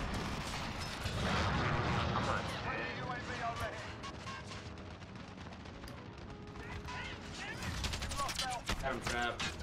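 Light machine gun fire from an LMG in the Modern Warfare video game, with dense, continuous bursts and explosions throughout, under excited voices of players talking.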